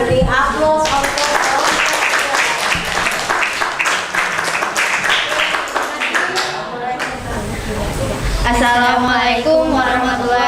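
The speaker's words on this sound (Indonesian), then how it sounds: "Mari kita beri aplaus untuk" A classroom audience applauds a student group's comic presentation, sustained loud clapping from many hands filling the room, with a short lull before the clapping swells again near the end.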